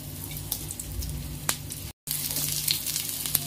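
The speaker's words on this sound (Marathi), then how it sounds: "मी सगळ्याच कटलेटला अशा प्रकारे कोट करून घेणार आहे आणि मग या तेलात सोडणार" Sweetcorn cutlets coated and set into hot oil in a pan sizzle with a steady close frying hiss and small crackles, broken by a brief silent cut, then the sizzle resumes brighter and louder.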